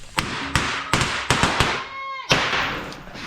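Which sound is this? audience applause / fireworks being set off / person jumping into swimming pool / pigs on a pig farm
fireworks being set off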